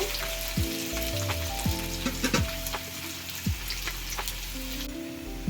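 Onions frying in a pan for a chicken dish, a steady close sizzle with crackles and pops like light rain, over a low background hum with sliding tonal sounds, no talking.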